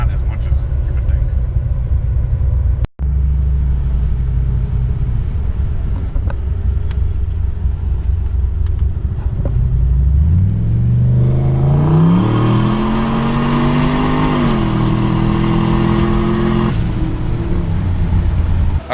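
A turbocharged Chevrolet Caprice police car engine drones steadily, then revs up through rising gear-like sweeps to a loud sustained roar. Loud, close and continuous, with someone speaking over the engine.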